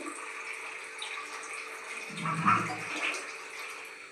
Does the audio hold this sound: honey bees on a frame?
no